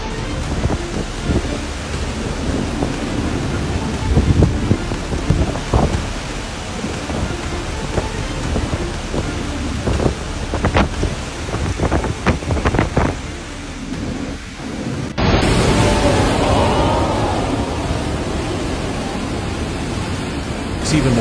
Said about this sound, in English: it unleashed torrential rain and relentless lightning, turning the entire sky into a scene of chaos